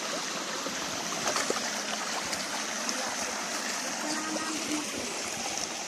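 Forest stream flowing steadily with a continuous broadband wash of water, a constant mid-level rush with small trickling details throughout and no clear voices.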